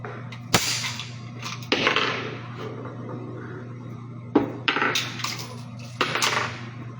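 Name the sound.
gunshots in a video game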